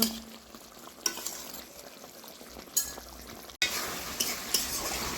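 Fried fish pieces and lentil dumplings simmering in a spicy fish curry in a pan, with a soft steady bubbling sizzle, a few light stirring clinks and scrapes, and no talk.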